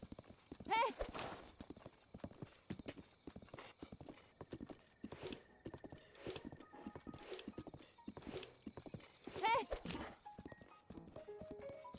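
Rhythmic hoofbeats of a galloping horse in the video game Echoes of the Wild, with an occasional whinny, under excited talking throughout.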